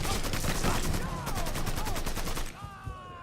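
Rapid bursts of automatic gunfire in the Mafia 3 video game, a loud sustained volley that fades into lighter shots near the end.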